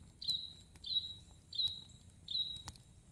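A bird sings four clear, evenly spaced whistled notes, each a short descending phrase, with a few faint clicks in between.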